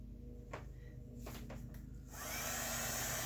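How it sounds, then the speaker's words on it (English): Heat tool switching on at close range to dry a freshly marked page in a farm-themed ring binder craft journal, a steady loud blowing hiss that starts partway through and holds to the end after a quieter stretch with light handling sounds. "I'm going to take my my heat tool, and I'm just going to dry it."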